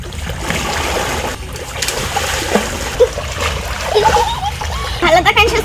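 Water splashes and churns close by as a person swims holding a bottle, irregular slaps and sloshes with louder bursts toward the end, and voices talk over it.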